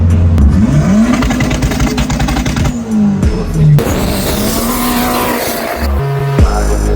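A D17 turbocharged car engine runs at low boost, about 14 psi, revving loudly up and down in rising and falling pulls with a rough, clattering edge, close and continuous.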